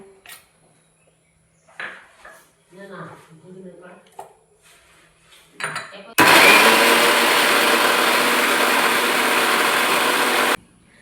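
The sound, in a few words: mixer blender blending mango pulp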